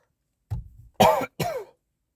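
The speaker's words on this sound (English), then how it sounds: "I almost physically can't talk anymore because I'm coughing too much." A few harsh coughs in quick succession, close and fairly loud, with a throaty rasp and short pauses between them.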